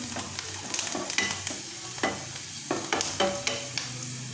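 Chopped onions fry in a pan until reddish brown with a steady crackling sizzle, broken by repeated scraping strokes of a spoon stirring them close by.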